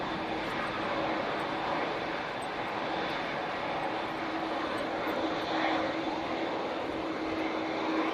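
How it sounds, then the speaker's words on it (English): A Boeing 737 Max 8 climbing away on departure, its steady engine roar heard at moderate distance, holding fairly even throughout with a faint tonal whine running under it. "Nice departure for that Max 8"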